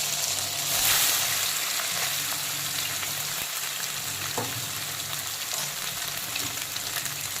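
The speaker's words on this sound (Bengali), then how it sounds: "এখন পটল আর আলু ভাজার তেলে আমি সয়াবিনগুলোকে দিয়ে দেব।" Soybean chunks fry in leftover oil from pointed gourd and potato, a steady, close sizzle and crackle with occasional stirring scrapes and no voices.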